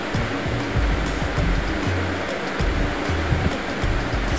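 Chilli chicken sizzles in a pan as a steady, loud hiss of frying oil, with low clatter and scraping from stirring mixed in throughout and no one speaking.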